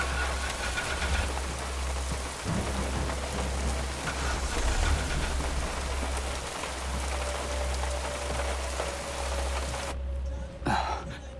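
Steady rain falls through a forest around an old broken-down car in a thriller movie scene, a dense continuous hiss and patter that cuts away abruptly near the end.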